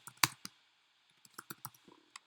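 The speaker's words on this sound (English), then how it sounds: "my typing always gets weird" Typing on a computer keyboard during a live forex webinar, heard as scattered sharp clicks, one strong keystroke near the start and then a quick irregular run of taps, close and fairly quiet with no voice over them.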